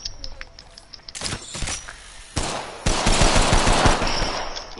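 Gunfire in Apex Legends: after a few scattered shots, dense rapid bursts of automatic fire ring out in close, loud volleys, while a high chirping ambient tone runs faintly underneath.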